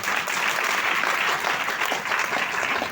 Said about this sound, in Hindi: एक बार अपने लिए और तालियां बजा दें